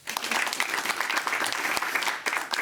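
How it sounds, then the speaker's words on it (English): Warm audience applause at a football awards show, a thick, sustained roar of many hands clapping close and loud, dipping briefly near the end before swelling again. "please, a very, very warm round of applause for the Gomez family"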